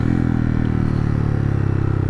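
A Honda Monkey motorcycle fitted with an OVER Racing exhaust idles with a steady, deep, throbbing engine note, a rapid even pulse that holds loud and close throughout, with no voices.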